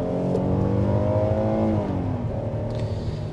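2024 Hyundai Palisade Calligraphy SUV with an 8-speed automatic accelerating, a smooth engine drone climbing in pitch, then easing back as a gear changes, close and fairly loud.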